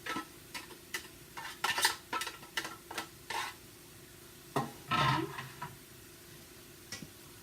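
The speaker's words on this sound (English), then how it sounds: "I'm going to take my ground beef that I had already fried up. I'm going to put it in." Ground beef, already fried, is stirred into a pan of sautéed onions and mushrooms: a run of close, irregular scraping and clattering spoon strokes with a soft sizzle underneath, pausing briefly mid-way before a few heavier stirs.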